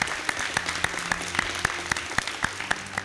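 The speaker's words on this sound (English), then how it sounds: "Let's give them a hearty round of applause" A thin, fairly quiet patter of claps rises from an audience honoring schools on stage at a performance competition, with distinct individual hand strikes standing out against a low background hum.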